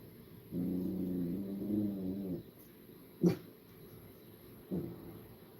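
A pet dog perched at a window growls at someone outside, a low sustained growl lasting nearly two seconds followed by a brief sharp whimper and a shorter grumble, fairly faint in a quiet room.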